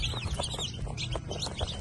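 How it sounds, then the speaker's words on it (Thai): Phu Phan black chicken chicks, one day old, peep in a constant chattering chorus of short high chirps from a large group of about a hundred, close by, with no voices. "อันนี้เป็นลูกไก่เด้อลูกไก่ดำผู้พันนะครับ"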